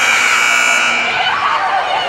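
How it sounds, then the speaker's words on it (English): A loud, harsh buzzer sounds at the end of the first half of a girls' varsity high school basketball game, Chaney vs Rootstown, holding steady for about a second before fading into crowd noise. "And Bailey Kidd tried to get that one up at the buzzer."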